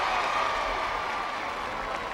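Loud crowd applause fills the whole stretch at an outdoor It's a Knockout heat in a Melton Mowbray park, a steady dense roar of clapping and cheering with no pauses.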